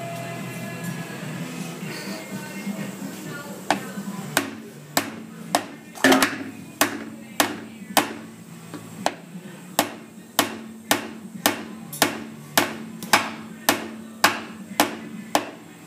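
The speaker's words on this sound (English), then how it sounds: "I guess we'll pound this out." A hammer pounds a dent out of a tire rim: sharp metallic strikes, sparse at first, then a steady, evenly spaced series of loud ringing blows.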